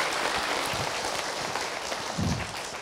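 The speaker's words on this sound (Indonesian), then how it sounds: "tepuk tangan Ibu untuk Abi" Applause from a religious-talk audience, a steady broadband patter of many hands filling the short span without a break, moderately loud with no voice over it.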